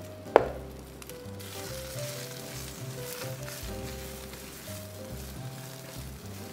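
Pechay (bok choy) pan frying in a home kitchen, a steady close sizzle and crackle after a sharp clatter at the start, with faint tonal hum from the stove area and no talking.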